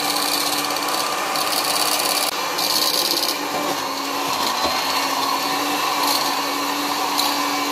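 Eggs and sugar being beaten into cake batter for a zebra chocolate cake make a loud, continuous whirring drone that holds steady throughout, with brief shifts in pitch and no talking.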